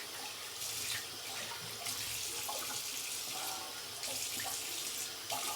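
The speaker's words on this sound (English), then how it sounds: "So I'm going to rinse some of that off" Tap water runs steadily from a faucet into a sink while shaving soap is rinsed off, a close, continuous splashing hiss with small shifts in flow and no voices.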